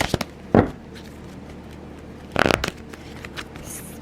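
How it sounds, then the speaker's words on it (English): Tarot cards are shuffled up close in two quick riffling bursts, with small card taps and soft rustles between them against a quiet room. "Let me shuffle a couple more times."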